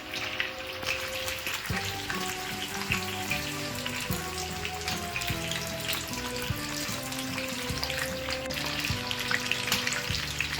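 Pomfret fish fries in a pan with a steady, dense sizzle and crackle that runs unbroken throughout, while tonal music plays underneath.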